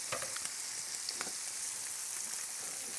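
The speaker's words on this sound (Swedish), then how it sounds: "när man steker fläsk" Pork sizzles and fries in a pan with a steady, dense crackle and occasional louder pops, close and constant throughout, with no talk.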